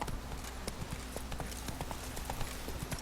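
Horse hooves clip-clop in a steady, fast rhythm as a rider travels in The Witcher 3: Wild Hunt, Blood and Wine, the close hoofbeats continuous over a low background hum.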